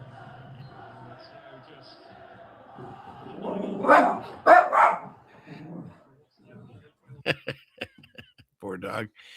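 A dog gives a few scattered barks and yips near the end, after a stretch of murmuring voices and louder talk, moderately close.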